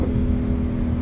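Loud, close engine of an 830 PS Audi RS6 Performance revving hard, a dense, steady roar held for about a second with no voices.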